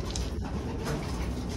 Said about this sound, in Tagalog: Mga ibon natin nandito sa loob.